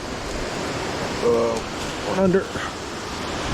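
Waterfall at Cathey's Creek Falls pouring into a large pool, a steady broad rushing roar close by, with someone briefly talking over it.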